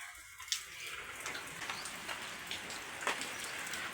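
Light rain falls outdoors, a soft, steady patter with scattered individual drops tapping nearby, fairly faint and without any voices.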